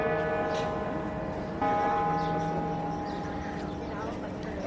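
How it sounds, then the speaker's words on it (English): Church bells in Barcelona ring out with a steady, sustained tone, their harmonics hanging over a busy outdoor city background with faint voices. "Oh, there's the church bells."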